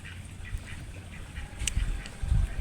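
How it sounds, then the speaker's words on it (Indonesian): Ducks quack in a short series of nasal calls at moderate distance, with a few honking bursts in the second half over steady outdoor background noise. "ternyata ada bebek"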